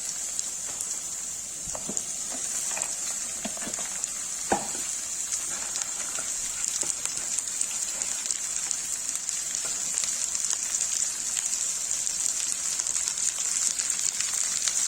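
Okra and onions frying in a pan, giving a steady, even hiss of sizzling oil with a few soft stirring scrapes and clicks, close and continuous with no talk.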